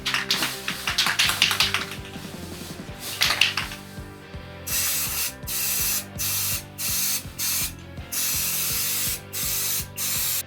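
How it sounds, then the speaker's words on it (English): After some rattling and clicking, an aerosol can of Zinsser Coverstain primer hisses out a series of short spray bursts in a steady on-off rhythm, close and fairly loud. "I'll be giving this a spray before I put the paint on it"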